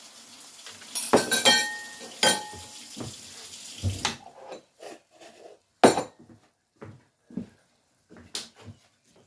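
A metal lid clinks and scrapes onto a pan holding fried cabbage and vegetable broth with butter. The sharp clatters are close and uneven, with running water and small kitchen knocks around them, and no one talks.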